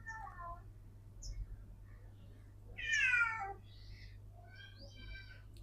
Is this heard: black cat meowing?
yes